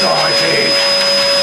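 A Hoover vacuum cleaner runs with a steady, loud whine throughout, while someone shouts excitedly over it.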